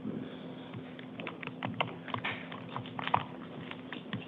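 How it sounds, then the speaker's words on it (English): Rapid typing on a computer keyboard in a courtroom during a court session, a steady, fairly faint clatter of keystrokes with scattered sharper taps, with no talking. "Oh, man, she's typing upset."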